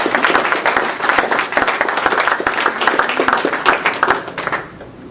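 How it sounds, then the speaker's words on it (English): Audience at a talk on health professionals and torture claps in a dense, sustained round of applause that fades slightly at the end. "let's applause."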